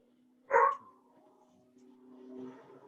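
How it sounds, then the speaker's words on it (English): A dog lets out a single sharp bark, then a faint whine trails off under a low steady hum, heard a little distant during a remote meeting. "Someone's dog's agreeing with us"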